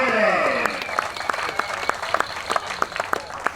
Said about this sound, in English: I'm sure you've got a big round of applause